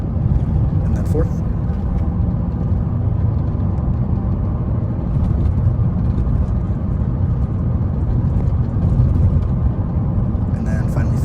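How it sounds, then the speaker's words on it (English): A car engine runs steadily at close range while the driver accelerates and shifts up through the gears, its low droning rumble staying loud and even throughout, with no voices heard over it. "And then as my speed increases, I shift into second."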